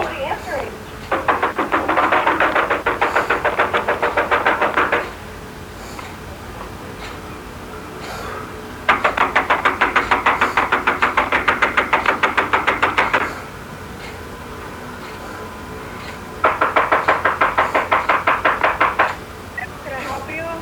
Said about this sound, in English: I know, I'm knocking on the door, there's nobody answering.